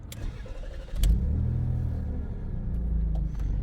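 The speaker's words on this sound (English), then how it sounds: "The KV6 is a wonderful sounding engine" An MG ZT 180 with a KV6 engine starts up and settles into a deep, steady rumble with a slight rev, close by and continuous.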